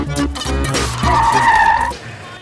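A vehicle in a comedy film scene pulls away hard with skidding, squealing tyres, loud and close for about two seconds before cutting off abruptly.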